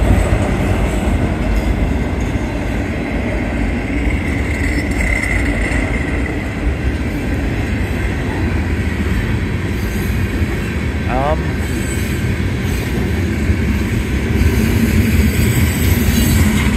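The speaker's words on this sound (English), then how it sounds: "And I think the end of the train is actually coming up" Union Pacific manifest freight train, led by UP 8854, rolling steadily past Cooper Road with a continuous loud rumble and wheel noise from its cars, plus a brief squeal midway, heard from an elevated spot.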